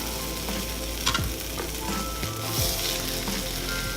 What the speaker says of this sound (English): I'm just gonna start by frying up some sausage.